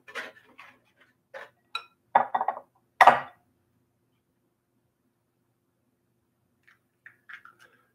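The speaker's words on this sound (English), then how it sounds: "I'm gonna throw another egg in here." Egg being cracked into a bowl, a few sharp taps and clicks of shell against the rim followed by quiet, then faint small clinks.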